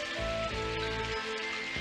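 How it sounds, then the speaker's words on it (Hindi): Cartoon rain effect as showers begin: a dense, continuous hiss of falling drops with soft patter, steady and moderately loud throughout, with faint tonal background sounds. "बारिश शुरू हो गई।"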